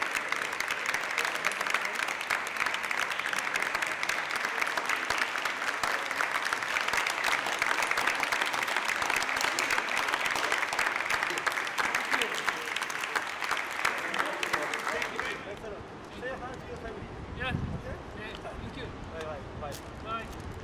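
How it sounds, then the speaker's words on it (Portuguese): Applause breaks out as the last Covid-19 patient leaves a Dubai field hospital, a long steady burst of clapping from a group before it stops abruptly, followed by quieter room noise and a few distant voices. "com a recuperação do último paciente que saiu sob aplausos"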